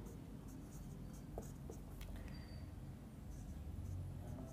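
Pen writing on paper while working a class 10 maths problem, soft faint scratching strokes under a steady background hum.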